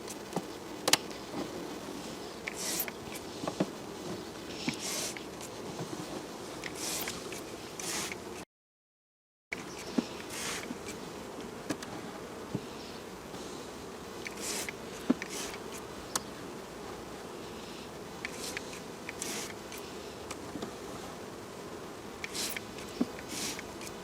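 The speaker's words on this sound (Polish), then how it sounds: "pszczoły spokojne po oprysku" A steady insect buzz of many honey bees around a hive after spraying fills the scene, with brief sharp ticks and a short silent gap partway through; no voices.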